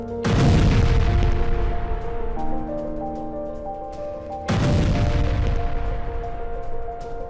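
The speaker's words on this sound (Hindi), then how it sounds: "डोनेस्क में तबाह हो गया रूसी टैंक। पिन पॉइंट अटैक में टैंक के पर खच्चे उड़ गए।" Explosion destroying a Russian tank in Donetsk in war footage: two heavy booming blasts about four seconds apart, each with a loud low rumble that rings and decays slowly, with no voices.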